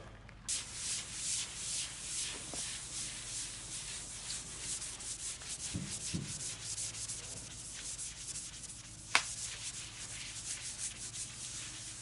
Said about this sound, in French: comme j'ai tout poncé au 800, je vais le faire au 800